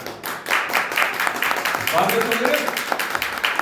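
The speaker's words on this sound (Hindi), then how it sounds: "ताली बजाकर प्रभु के नाम पे" A church congregation clapping their hands together in praise, a steady run of quick claps spread through the room under a preacher's voice.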